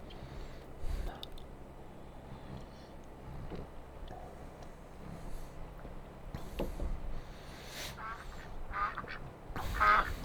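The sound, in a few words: geese honking sound effect in Farming Simulator 22 video game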